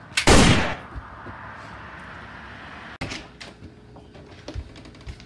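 A single loud, sharp gunshot cracks near the start of a comedy skit, followed by a quieter thud and light rustling and knocks.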